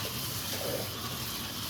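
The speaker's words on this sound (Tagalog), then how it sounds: "Buhusan natin ng tubig." Water poured out at a kitchen sink after cleaning it, a brief, steady gushing splash heard close up with no voices.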